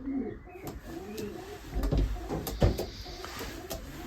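Racing pigeons cooing softly in a loft, low murmuring coos layered with a few clattering knocks and thumps nearby, faint and fairly close.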